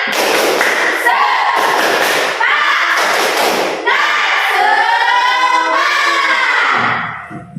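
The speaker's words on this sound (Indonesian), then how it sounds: "Ya, kita coba tepuk semangat." Schoolchildren in a classroom perform a rhythmic clapping chant together, loud bursts of group claps between chanted lines and a sustained shout of many young voices near the end.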